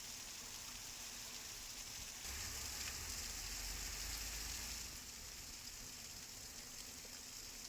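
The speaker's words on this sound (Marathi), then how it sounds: "मुसळधार पावसामुळे अनेक नदी नाले ओसंडून वाहत आहेत" Heavy monsoon rain pours down steadily, a dense, even hiss of water striking surfaces that swells a little louder for a couple of seconds midway before settling back, with no voices.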